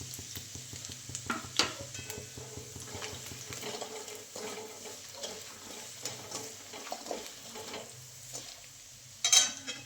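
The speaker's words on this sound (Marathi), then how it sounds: "फोडणी चांगली देऊन झाली" Soft sizzling of spices, including turmeric and red chili powder, in hot oil for a tempering, with scattered crackles and light stirring scrapes, moderately quiet and close, ending with a brief louder hiss.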